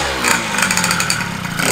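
A Honda Dio Elite 120cc stroker scooter engine freshly fitted with new jets and a new clutch, running loud and close with a raspy two-stroke buzz that surges and dips slightly throughout.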